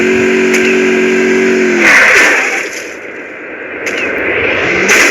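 A motorbike engine in Free Fire game, with a steady mid-pitched engine hum that breaks into a noisy burst, then a rougher running sound, loud and without talk.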